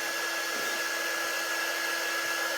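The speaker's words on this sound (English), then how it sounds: "those are the parts that you want to hit up with the dryer to help give it a little bit more of a crackle effect" A hair dryer blows steadily at close range, drying wet paint to create a crackle finish, its constant whooshing roar carrying a high whine throughout.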